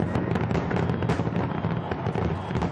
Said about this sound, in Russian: Ровно в 22:00 небо столицы озарит салют,